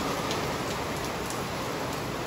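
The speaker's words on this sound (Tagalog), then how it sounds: "Tumigil lang talaga saglit yung ulan, tapos bumalik. Bumuhos uli siya." Heavy rain pours down steadily in Paranaque, a dense, even hiss with soft pattering of drops on surfaces throughout, close and continuous with no voices.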